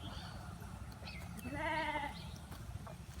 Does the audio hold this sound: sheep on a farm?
yes